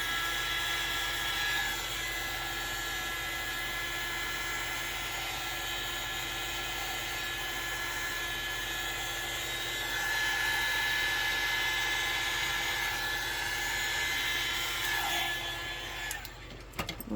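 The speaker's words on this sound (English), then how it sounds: "so I'm going to go ahead and run this right here for just a minute. The heat gun right along the edges" A heat gun blows steadily along the edges of freshly poured resin in a mermaid-tail mold, a constant close whirring hiss that swells slightly partway through and cuts off at the end, no voices.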